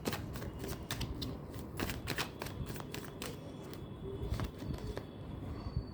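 Tarot cards shuffled and drawn from a deck for a reading, with rapid papery flicks and snaps in a steady run, close and clear, with birds faintly audible in the background.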